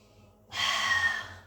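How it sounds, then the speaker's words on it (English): One long, close breath drawn during a Pilates mat exercise, a soft airy rush that rises suddenly, holds for nearly a second and fades, with no talking. "One more breath."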